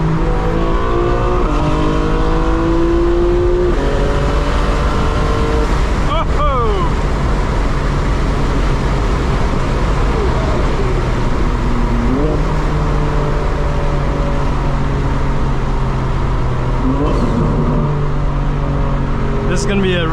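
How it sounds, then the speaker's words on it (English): A 2025 BMW M4 Competition xDrive drives at night, its engine drone steady and loud from inside the cabin, broken by several sharp rev blips as it downshifts. "This is going to be a really sick downshift to second."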